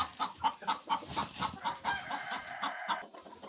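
Hens clucking in a coop bedded with fresh straw, a busy run of close, rhythmic clucks and soft chattering calls from several birds, with no talk over them.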